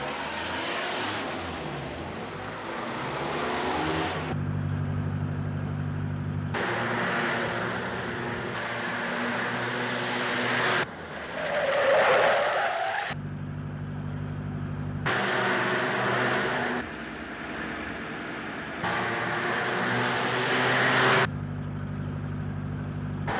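A 1937 car driving fast roars in repeated surging bursts of engine noise, cutting in and out, with a louder rough skid-like passage in the middle; no talking.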